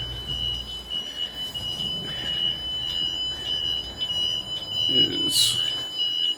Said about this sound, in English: That was the alarm telling me I did not have either the upper or lower helm